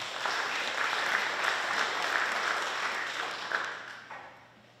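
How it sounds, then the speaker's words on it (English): Applause rings out for honored high school students at the Juneau Lions Paideia Honors Program, a dense round of clapping from the audience that tapers off toward the end. "Let's give these fine young students one more round of applause."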